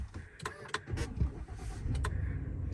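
A 2026 GMC Sierra HD 2500 AT4 pickup with a 6.6L gas V8 starts up from inside the cab: a few clicks and a short cranking burst, then the engine settles into a steady low idle.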